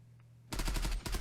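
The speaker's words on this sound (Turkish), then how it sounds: "Gördü ama Ya dağlara taşlara sıkıyor mermiyi" Burst of rapid automatic gunfire in the online shooter Zula during a competitive match on the wedding hall map, starting abruptly after a quiet moment and firing loud and close with a short break before resuming.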